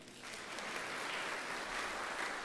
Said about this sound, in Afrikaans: Kom ons gee vir haar 'n klap.